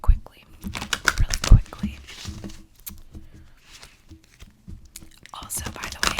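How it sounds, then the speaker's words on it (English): Quick, crisp clicking and riffling of tarot cards being shuffled in bursts, close up, with soft whispering and pauses between shuffles. "I'm just going to shuffle these cards really quickly"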